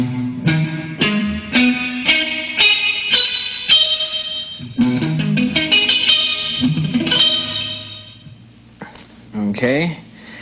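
Effects-laden electric guitar plays rising minor arpeggios, distorted notes ringing into one another with chorus shimmer, ending in a few quick slides.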